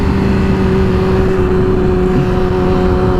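A Yamaha R6 motorcycle pulling hard in second gear at about 40 mph, a loud, steady engine drone with a strong sustained tone and no break, heard close up.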